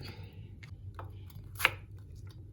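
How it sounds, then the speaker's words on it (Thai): A knife slices apples into thin pieces for apple jam, making soft, irregular cuts against a board, with one crisper chop standing out over a low background hum. "วิธีการหั่นเฮาก็จะหั่นเขาเป็น ชิ้นบาง ๆ นะคะพอประมาณแล้วก็ จะหั่นเป็นลูกเต๋าจ้ะ"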